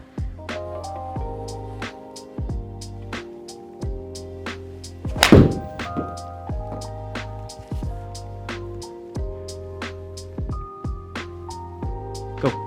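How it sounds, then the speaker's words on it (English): A full pitching wedge strike on an indoor Trackman golf simulator: one sharp, loud thwack of club on ball near the middle, set against steady background music with rhythmic notes. "I think I'm gonna hit a full pitching wedge"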